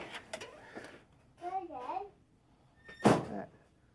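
A second-hand tumble dryer door is slammed twice in a home, short hard thuds near the mic, with a voice and other talk between the bangs.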